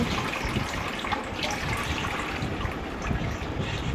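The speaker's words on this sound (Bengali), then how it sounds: "জল পড়ছে জল পড়ছে" Water runs steadily from a kitchen tap, a continuous broadband hiss and splash that holds at an even, fairly close level throughout with no talking.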